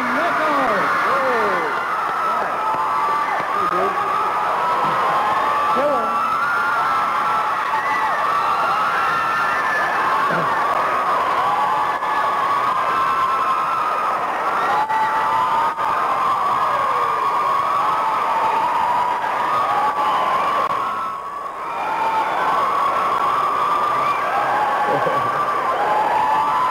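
A TV talk show studio audience at AM Cleveland in 1988 keeps up loud, sustained applause and cheering, with whoops and shouts, close and dense for the whole stretch, briefly dipping near the end.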